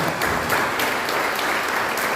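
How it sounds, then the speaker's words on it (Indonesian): A church congregation applauding during an Easter service, a dense, loud wash of clapping that fills the whole moment evenly, with no voice above it. "Bagi tepukan sekali lagi untuk Pemuda Pemudi"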